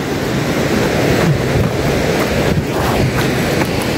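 A swollen, rising mountain stream in Nepal roars in a loud, steady broadband rush, with wind buffeting the microphone throughout; no voices.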